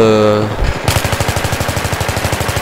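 Machine gun fire in the Battlefield video game, a long steady burst of rapid, evenly spaced shots that starts after a short moment of game sound and runs loud and close to the end.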